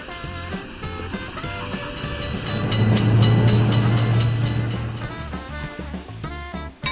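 In a game set on Indian railways, a train passes a road crossing, swelling from a moderate rumble to a loud droning peak midway and then fading into intermittent clanks and tones.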